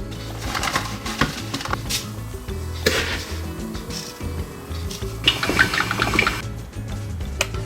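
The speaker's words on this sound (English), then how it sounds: "Next, add your coffee to your coffee pot." Leftover coffee poured into a coffee pot, a steady liquid splash and trickle that rises and falls in bursts, close and moderately loud with no talk.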